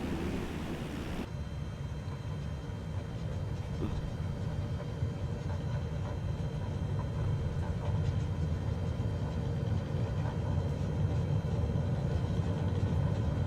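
Steady, loud airliner engine roar during takeoff in Microsoft Flight Simulator: a deep, continuous rumble that builds slightly and holds for the whole stretch, with no voices over it.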